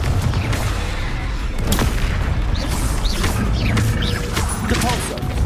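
The Confringo spell explodes in the Hogwarts Legacy video game as a loud burst of booms and crashing impacts, layered with dense combat effects.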